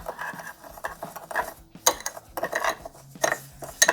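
Homemade bread dough made with scalded flour and a little milk being stirred in a bowl, a near series of uneven scraping knocks and clinks of a utensil against the bowl, with no talking.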